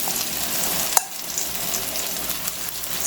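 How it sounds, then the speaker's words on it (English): Marinated squid sautéing in a pan with Indian spices, giving a continuous close sizzle with a brief clatter partway through, heard alone. "Now I am adding the marinated squids."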